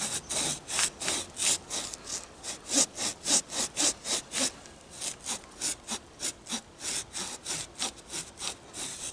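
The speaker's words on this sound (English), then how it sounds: "This is pine, so it's going to cut a little bit easier than, say, cutting a hardwood." Hooyman 8-inch folding saw cutting through pine, a steady run of rhythmic rasping push-pull strokes, about two or three per second, close and fairly loud with no talk.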